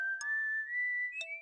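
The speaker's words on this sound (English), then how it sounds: "Casually whistling the theme song there." A character in the Space Quest 6 video game casually whistles a theme tune. The whistled melody is clear, sustained and gently wavering, with a couple of soft clicks in the background.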